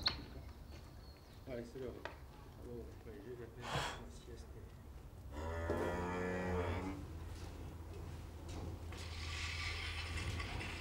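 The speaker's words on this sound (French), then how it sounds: "C'est agréable de pouvoir regarder des vaches et voir personne, c'est agréable." Cattle on a farm low and moo in a stretch of sustained harmonic calls midway, amid other farmyard noise, with people talking at points around them.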